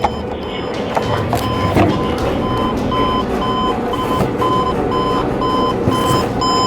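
An electronic alarm clock beeps in a steady repeating pattern of short high tones, loud and close, over a low background rumble.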